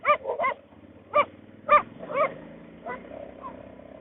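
Small herding dogs guarding a flock of goats in the Mexican countryside near Puebla bark in short, sharp yips, several quick barks clustered early then sparser ones fading, fairly close over a quiet background.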